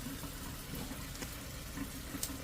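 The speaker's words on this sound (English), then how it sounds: "I'm just going to put them in a strainer here and run some water over them" Tap water splashes steadily over fresh green beans in a strainer, a soft, continuous running hiss with faint patters, low and close.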